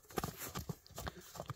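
A horse's hooves strike the ground in an uneven clip-clop of close thuds as it walks, with no clear talk.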